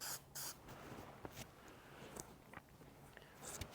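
A light touch-up coat of Plasti Dip sprayed from an aerosol can, heard as short, faint hissing bursts with brief pauses between them in a quiet room.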